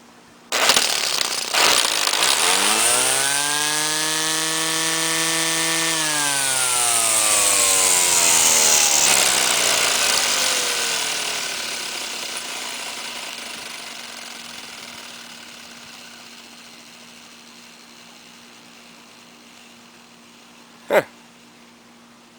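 A Black & Decker 8207/8209 electric string trimmer starts with a rising whine, runs loud and steady for several seconds, then spins down in a long, slowly falling tone to near silence, with a sharp click near the end.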